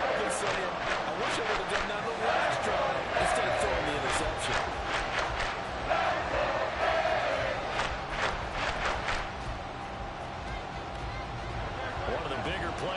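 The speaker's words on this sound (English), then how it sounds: "The crowd getting into it as we come up on a big 3rd down." Crowd noise in a football video game, a continuous roar of cheering under a commentator's voice, with sharp rhythmic claps and stomps swelling ahead of a big third-down play.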